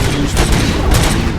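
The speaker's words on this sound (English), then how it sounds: "Gunshots? What's going on?" A dense burst of rapid gunfire in the video game Robocop: Rogue City rattles without a break, loud and close, with booming low thuds under the shots.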